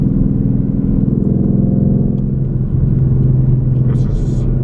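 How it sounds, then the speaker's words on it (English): A deep, steady 5.0 Coyote V8 engine of a 2020 Ford Mustang with its muffler deleted idles close by with a low throbbing burble that holds constant throughout, joined near the end by a brief high hiss. "This Coyote engine is an amazing car"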